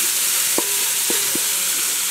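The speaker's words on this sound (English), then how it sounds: "So I'm just frying the spring onions to cook." Spring onions fry in boiling ghee, giving a steady close broadband sizzle with a few brief clinks of stirring against the pan, no talking.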